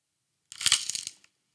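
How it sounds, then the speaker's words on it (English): A quick burst of crunching from a Himalayan pink rock salt grinder cracking salt crystals, close and crisp, lasting under a second before stopping, with no talk over it. "It is me using the Himalayan pink rock salt shaker or grinder."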